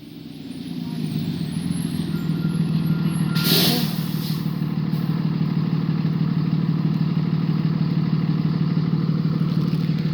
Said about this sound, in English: Here comes the bus.